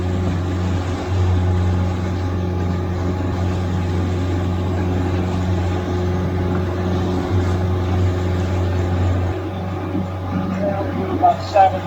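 Outboard or inboard boat engine holding a steady 2,800 RPM on calm, flat Lake Nipigon, a continuous low droning hum with steady tonal harmonics that stays loud and even throughout.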